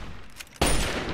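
Gunfire aimed at the player in Fallout 3 erupts suddenly after a quieter stretch, a loud dense burst of shots filling the rest of the moment.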